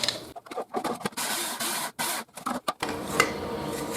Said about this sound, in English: I'm going to grind a little bit less, have some bigger chunks left over.